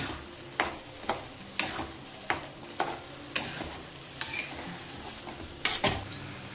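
A utensil stirs sautéed mushrooms into tikka masala in a pan, making a steady run of light clicks and scrapes about every half second over a faint, quiet sizzle.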